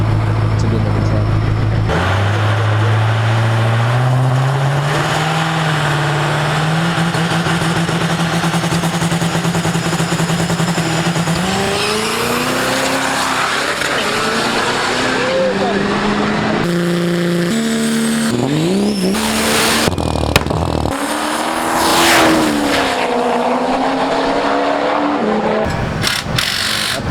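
A 6.7 Powerstroke diesel race truck makes a pass at a callout challenge event, its engine droning loud and steady as it climbs in pitch through shifts, with crowd noise and talk around it.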